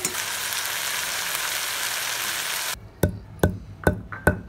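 Chillies fry in a pan for an Andhra-style mint and garlic chutney, a dense steady sizzle that suddenly drops away, followed by four evenly spaced clacks of a spoon against the pan.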